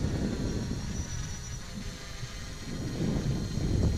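JJRC X11 Scouter drone flying in an outdoor test flight, a steady whirring propeller drone holding a constant broadband hum that swells slightly toward the end, with no speech.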